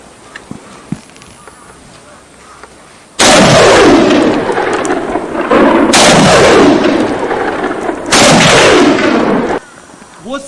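Loud bursts of rapid gunfire in a commando training or combat setting, three long roaring volleys with brief pauses between them, echoing sharply over background noise.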